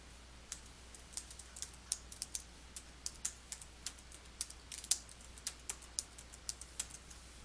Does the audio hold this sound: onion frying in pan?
no